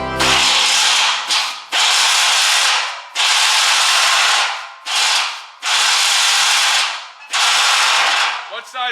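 A step drill bit cutting through metal, driven by a 3/8 inch air drill: loud harsh grinding in five long bursts of roughly a second each, separated by brief pauses, with no talk.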